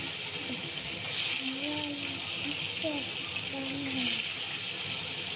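Potatoes fry in a pan with bay leaf and whole cumin, a steady sizzling hiss running throughout while a person talks over it.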